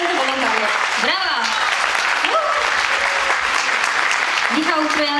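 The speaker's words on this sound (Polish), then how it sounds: "Brawa!" An audience claps continuously at an awards announcement, dense steady applause with bright whistles and cheers rising over it.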